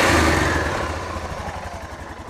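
Yamaha Rhino side-by-side engine, fitted with a 1970s Ford alternator in place of its stator, running with a steady throbbing idle that rises briefly then settles, close and fairly loud with no talking.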